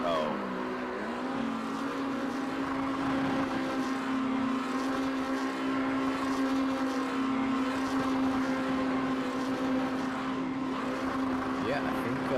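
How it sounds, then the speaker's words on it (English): Race cars perform burnouts at the Red Bull Ring during a WCR endurance event, a continuous engine roar with a droning tone heard at a distance, steady throughout with some background noise. "No, I'm watching the burnouts."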